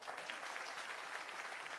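Audience applause at an outdoor political speech in Bihar, a short, fairly faint patter of clapping hands heard alone without any voices.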